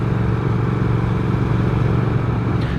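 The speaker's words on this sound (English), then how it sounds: "And that engine, the engine tone is lovely." Engine of a 2021 Triumph Speed Twin motorcycle while riding, a steady close low throbbing drone with a constant rumble and wind noise, no speech.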